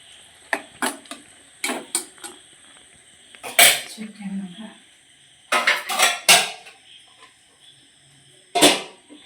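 Metal pot lid placed on a pot of cooking rice in a home kitchen, sharp clinks and clattering taps of metal on metal in scattered bursts, with a voice speaking faintly between them.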